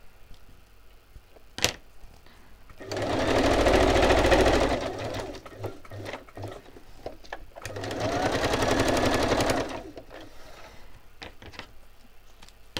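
A sewing machine stitching around a journaling piece runs in two steady whirring bursts of several seconds each, close and clear, separated by soft handling clicks and taps.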